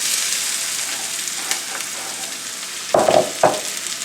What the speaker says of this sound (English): I have to saute some onions and some garlic.